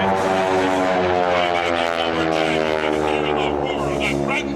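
A propeller airplane's 600-horsepower Pratt & Whitney engine drones loudly and steadily at an air force base airshow, its pitch sliding slightly as it passes, with a voice speaking over it.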